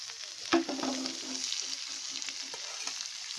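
Vegetables with turmeric powder being stirred in a pan over a village clay stove, a steady soft sizzle under scraping spatula strokes, with a sharper clatter early on and no talking.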